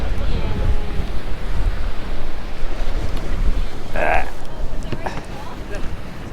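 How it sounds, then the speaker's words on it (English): Strong wind buffets the microphone on the exposed Giant's Causeway coast, a continuous loud roar with gusts and faint surf underneath, steady throughout with a brief higher whoosh midway. "Oh, it's windy now."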